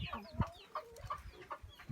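Chickens clucking in a mountain village in northern Laos, a run of short clucks and calls spaced through the clip, moderately close and fairly quiet.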